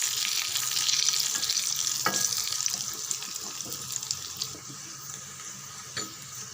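Curry leaves fry in hot oil for a fish kuzhambu made with sankara fish, giving a steady crackling sizzle that is loudest at first and then eases slightly, with a few sharp pops and no voices.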